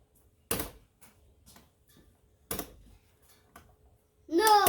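A faulty blend door actuator in a 2006 Ford Explorer heater knocks and clicks behind the dash, with sharp ticks about every two seconds and softer ticks between them, before a voice starts at the end.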